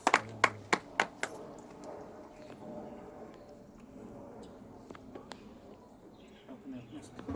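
Sharp rhythmic hand claps from a church congregation open the moment, five or six crisp loud claps in quick succession, then fade into a murmuring room with scattered taps and voices talking.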